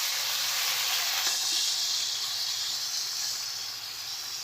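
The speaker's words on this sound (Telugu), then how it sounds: "ఇప్పుడు టమాటా వేసుకుందామండి." Tomatoes hit a hot pan while veg noodles are being cooked, sending up a loud, continuous hissing sizzle that eases slightly toward the end, with no talking.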